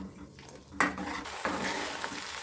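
Ghee heating on a low flame in a pot while being stirred, a soft sizzle with a few metal scrapes and clinks of a spoon against the pan, close by, no talk.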